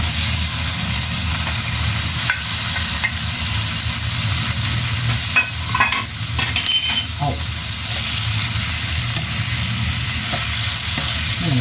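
Onion and ginger sauté loudly in a hot pan for Bicol Express, a steady close sizzle and hiss with occasional stirring scrapes, continuous and without talk.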